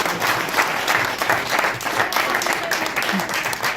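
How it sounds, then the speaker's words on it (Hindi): An audience at a community celebration in Shimla applauds, a dense, even round of clapping with some crowd murmur mixed in. "छोटा ताली के लिए"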